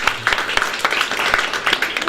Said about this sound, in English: give a round of applause here for our first volunteer